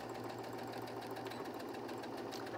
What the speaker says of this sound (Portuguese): Aqui eu volto a costurar, fecho mais um pedaço, retrocesso no final de novo.